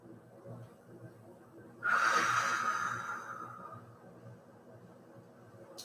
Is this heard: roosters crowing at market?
no